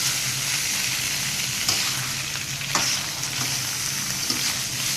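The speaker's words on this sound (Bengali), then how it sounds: "এবার এটাকে একটু ভেজে নেব" Broccoli, potatoes and chickpeas fry in a pan with a continuous, close sizzle and a few light scraping stirs, with no voices.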